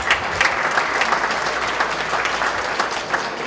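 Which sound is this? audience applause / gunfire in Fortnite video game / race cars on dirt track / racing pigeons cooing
audience applause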